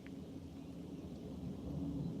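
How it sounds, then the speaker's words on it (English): A low, steady rumble of distant thunder rolling on without a break, with a faint hiss like rain in the background. "Sound like some mean lightning to me"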